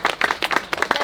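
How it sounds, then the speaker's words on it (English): Wedding guests applaud a ring bearer, scattered hand claps at fairly close range that blend into a brief, lively round of clapping. "we can give James a round of applause"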